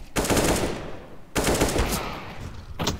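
Gunfire in Counter-Strike: Global Offensive, with two loud bursts of rapid automatic shots separated by a brief pause, followed by a third short burst at the end, with no talk over it.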